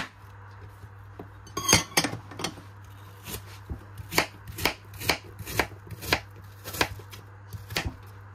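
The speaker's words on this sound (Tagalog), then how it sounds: "Slicein lang po natin ng pino." An apple is sliced finely with a knife on a cutting board, producing a steady series of crisp, close chopping taps, about one or two per second, with no voices.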